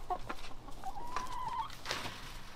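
Chickens cluck softly near a rooster during mulberry picking, giving a quiet mix of short clucks and one drawn-out call against a steady outdoor background.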